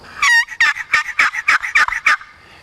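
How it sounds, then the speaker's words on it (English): Primos Hook Up magnetic box turkey call producing a series of about eight sharp, rhythmic yelps, loud and close, evenly spaced with no talking. "This thing produces great soft yelps"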